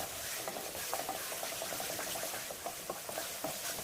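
Tomato thokku made without onion sautés in oil in a pan over a medium flame, a steady soft sizzle and hiss with light spatula scrapes and taps scattered through it as the mixture is stirred.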